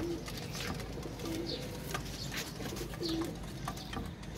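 Pigeons coo in low repeated calls from close by, with a few soft chirps and a steady murmur of background noise.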